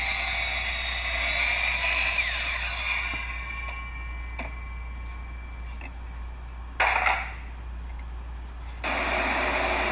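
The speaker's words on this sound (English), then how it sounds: "I have a rough cut 2x6. I'm cutting it at 19 inches thereabouts." Power saw cutting a rough-cut 2x6 board, a high whining buzz that holds steady, then drops as the blade runs down, with short bursts of cutting noise later, close and loud.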